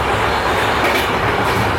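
A passing train rushes by close alongside an express train, a loud, dense roar of rolling wheels and carriages that fills the whole brief moment with no voices.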